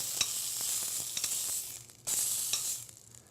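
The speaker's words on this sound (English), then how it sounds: "So we're just going to let that get a nice browning on the outside." Raw meat sears and browns in a hot pan, giving a steady close sizzle with scattered small pops and a brief lull midway, no voices.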